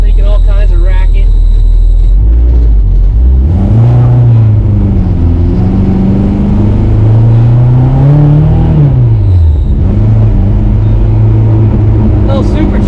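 A supercharged 1971 Volvo 1800E four-cylinder engine, fitted with a T-5 transmission, revs loudly and close up, rising and falling through several throttle sweeps with whine, while a voice talks over it.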